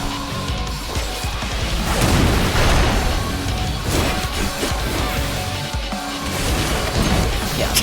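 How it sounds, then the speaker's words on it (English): Bombs go off in the video game Final Fantasy XIV, a dense run of crashing booms and bursts layered over game music and effects, loud and continuous with heavier swells midway and near the end. "as soon as the bombs that are in front of us go off, we want to run forward"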